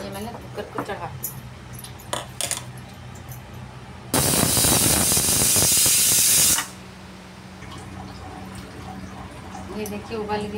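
A pressure cooker on the stove releases a loud, steady burst of steam hiss for about two seconds while jackfruit cooks, standing out clearly above quieter kitchen background sounds.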